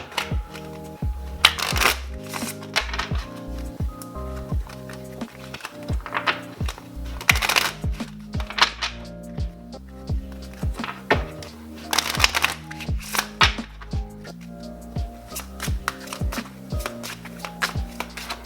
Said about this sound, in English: Let's get him a good shuffle.